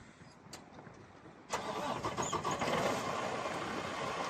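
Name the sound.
Freightliner Cascadia truck engine starting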